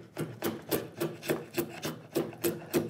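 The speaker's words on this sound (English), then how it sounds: "I can use one of the spokeshaves and show you how effective they are" A wooden spokeshave shaves a curved arch on a furniture part, making about ten short, even rasping strokes in a steady back-and-forth rhythm, close and clear with no talk.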